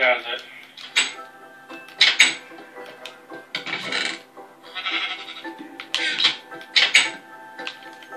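A pink sheep in the Minecraft game gives several short, repeated bleats in separate bursts, loud and close, mixed with other clicky game noises.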